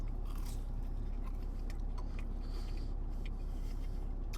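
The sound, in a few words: biting and chewing a crunchy dim sim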